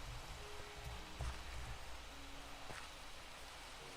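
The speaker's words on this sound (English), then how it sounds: "And of course it rains." Video game rainfall gives a soft, continuous patter and hiss at moderate level, with a few faint tonal blips beneath the steady wash.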